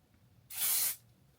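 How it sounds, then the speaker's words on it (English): A single short burst of lace melt aerosol spray on a wig perimeter, a close, steady hiss lasting about half a second before stopping. "I'm going to just spray the perimeter and go in with my finger"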